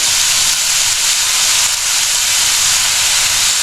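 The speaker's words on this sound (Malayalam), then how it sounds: "എണ്ണ ചൂടായി കഴിയുമ്പോൾ അതിനകത്തോട്ട് കടുക് ഇട്ടുക. അതിനകത്തോട്ട് നമ്മുടെ മുളകും" Mustard seeds and chillies sizzle loudly in hot oil, a steady close hiss and crackle that continues without pause and with no talking.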